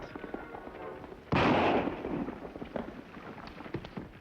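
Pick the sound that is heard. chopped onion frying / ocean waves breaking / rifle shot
rifle shot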